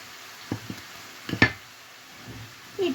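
Vegetables with pepper and tomato being stirred as they stew in a pan: a few soft spoon scrapes and clinks against the pan over a faint low simmer, with one sharper knock in the middle.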